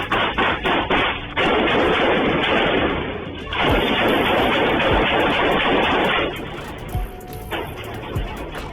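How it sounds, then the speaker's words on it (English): Gunfire in a street shootout as a man returns fire at a black sedan: loud, harsh, distorted bursts of shots and crashes that run almost continuously for several seconds before thinning into scattered cracks. "returns fire at the perpetrator in the black sedan"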